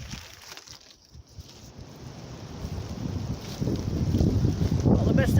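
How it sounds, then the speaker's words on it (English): Strong wind buffets outdoors, rumbling and gusting into the microphone and building louder toward the end, with a voice briefly heard under it. "it's still very windy at times"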